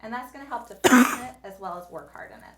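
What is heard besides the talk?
cough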